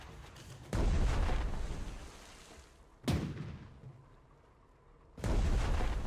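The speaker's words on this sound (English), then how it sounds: "Select the depth charge and attack it. Attack it with the depth charge again." Depth charges fired at an enemy submarine during a night naval battle in a Pacific strategy game: three heavy booming blasts, each roaring at first and then fading into a long rumbling tail.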